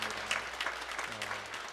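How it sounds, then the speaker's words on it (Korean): A church congregation claps briefly during a Sunday service to welcome a member, a soft, steady patter of many hands heard from a distance, with a low hum underneath. "우리가 박수로 맞이하겠습니다"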